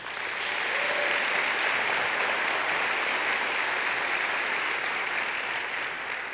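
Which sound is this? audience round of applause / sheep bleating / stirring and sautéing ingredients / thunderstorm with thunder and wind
audience round of applause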